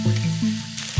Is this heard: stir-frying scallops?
yes